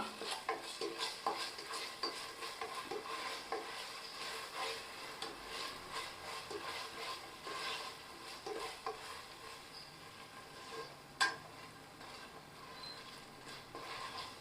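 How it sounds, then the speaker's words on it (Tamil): Ginger garlic paste being stirred into a pan for prawn biryani, soft scraping and clinking of a spoon against metal with a faint sizzle, fairly quiet, one sharper clink near the end, no voices. "ஒரு மேஜை கரண்டி இஞ்சி பூண்டு விழுது இதை நல்லா கலந்து விட்டுக்கலாம்"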